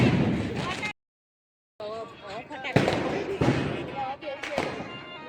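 Diwali firecrackers burst nearby in a few sharp, loud bangs, one after another, mixed in with voices talking and calling out during the festival celebration.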